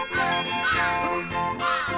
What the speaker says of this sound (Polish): To jeszcze ptaki.